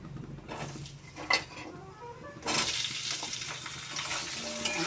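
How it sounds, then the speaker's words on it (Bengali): Potatoes for a soybean curry frying in hot oil, a steady sizzle that swells louder midway, with a few stirring scrapes and pan knocks near the start. "সয়াবিনের আলুগুলো আগে একটু ভেজে নিই।"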